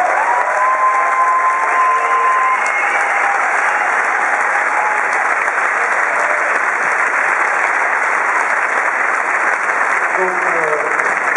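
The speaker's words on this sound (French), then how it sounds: "je crois qu'on peut vraiment les applaudir" A large audience at the Grand Rex in Paris, during the Nuit de la Montagne, gives a loud, sustained, dense round of applause that stays thick and even throughout, with a few whistles near the start.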